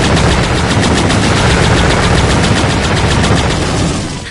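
A gun in a video game fires in a loud, continuous rapid burst of automatic shots, with no voices.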